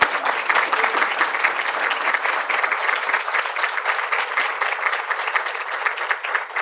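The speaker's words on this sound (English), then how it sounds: "just give a big round of applause for former Minneapolis Mayor Sharon Sayles-Belton." An audience at a City County Black History Month celebration applauds for a former Minneapolis mayor, with dense, steady clapping from a crowd that holds loud and even throughout, with no speech.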